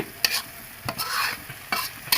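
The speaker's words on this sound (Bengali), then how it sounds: "এই চিংড়ি মাছগুলো একটু ভেজে নিচ্ছি এবং কষিয়ে নিচ্ছি।" Small sea shrimp frying in a pan under a steady sizzle, broken by several sharp stirring scrapes at irregular intervals, close and fairly loud with no talking.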